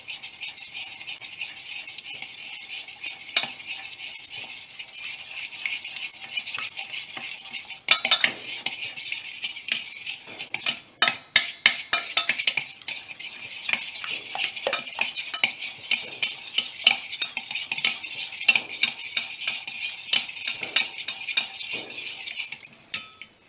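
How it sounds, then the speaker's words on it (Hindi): Shakarpare sweets being stirred into sugar syrup give close, repeated clinking and scraping of a spoon against the pot, uneven in rhythm, with no voices. "अच्छी तरह से मिक्स कर लेंगे चाशनी में।"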